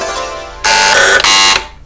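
Loud electronic buzzer on a Urdu-language quiz show, sounding twice in quick succession with a brief gap, after a short spoken answer from a contestant.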